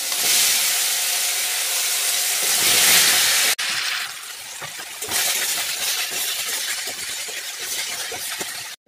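Guava pieces sizzling in hot oil in a pan, a loud continuous hiss that rises, cuts off abruptly, then resumes with crackling spatter.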